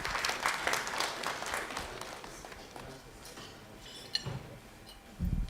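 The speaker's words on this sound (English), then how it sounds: "Let's welcome him with a round of applause." Audience at a Stanbic Bank and Graphic Business breakfast meeting applauding, a burst of clapping that starts strong, thins out and fades, with a few scattered claps and knocks near the end.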